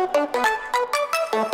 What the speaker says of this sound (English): like a proper grain delay, where the delay times are audible